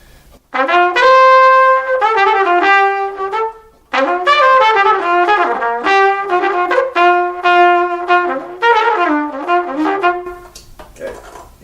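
An Austin Winds Copper Bell Stage 470 LT trumpet plays a melody up close and loud, with bright, brassy phrases of separate notes and a short pause before the tune resumes.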